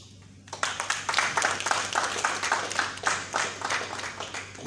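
A crowd in a hall at the launch of a chamber's strategic plan and swearing-in ceremony breaks into applause, steady clapping that rises quickly and holds at a full, moderately loud level.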